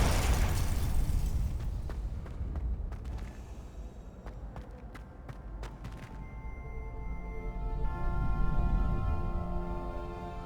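Explosions from the Confringo fire spell in the Hogwarts Legacy video game, a loud booming blast that gives way to sharp pops and crackles, then a rising rumble near the end.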